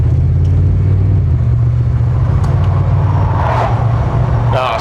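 An OBS pickup truck fitted with QA1 coilovers and steering upgrades drives along a road, its loud, steady engine and road drone heard from inside the cab, with brief voices at times.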